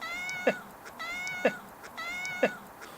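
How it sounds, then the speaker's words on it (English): A cat meows three times at an even pace, each call rising and bending, fairly quiet and clear with no talking. "there's definitely no doubt that Hermione had the last say there, or the last meow."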